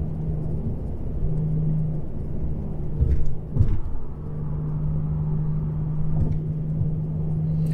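Nissan G35 with stock headers, ISR test pipes and an HKS axle-back exhaust drones at a steady low rumble while driving, with brief louder swells partway through.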